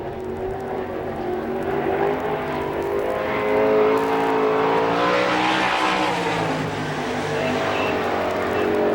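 A sprint race car runs a qualifying lap on a Pennsylvania dirt speedway, its engine a steady loud roar that holds high and swells slightly as it moves around the track.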